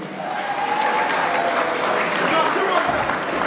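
A wedding audience applauds a couple in a sustained, dense burst of clapping that fills the room, steady and loud throughout.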